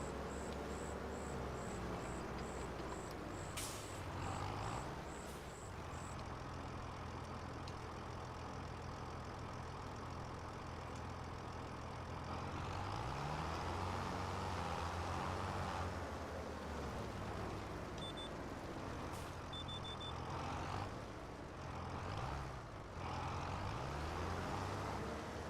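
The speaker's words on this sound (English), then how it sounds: "Oh, there's a truck here." A truck engine idles and rumbles in the video game Farming Simulator 25, a steady low drone throughout with occasional beeps and short bursts of air hiss.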